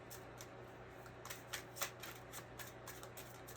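A deck of cards being shuffled, soft riffling bursts that flutter and rise in a few quick pulses, quiet and close with no talking.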